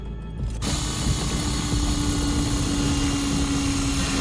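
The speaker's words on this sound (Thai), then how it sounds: "โอเคเครื่องเจาะ" A drill in Call of Duty: Ghosts grinding through a hydraulic seal: a loud, continuous mechanical whir with a steady tone that starts abruptly after a half-second of lighter clatter and runs unbroken to the end, close and alone.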